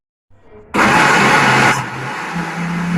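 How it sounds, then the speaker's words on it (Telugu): An electric mixer grinder blending chopped onions starts with a brief low whir, then jumps to a loud, harsh motor roar that drops to a lower, steadier grinding hum toward the end. "ఇప్పుడు మనం చక్కగా మిక్సీ పట్టుకుందాం."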